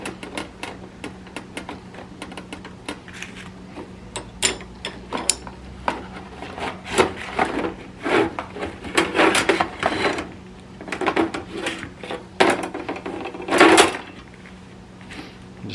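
A brake line fitting on a Dodge Dakota is threaded and tightened by hand, heard as a close run of small metallic clicks, ratcheting taps and scrapes in irregular bursts.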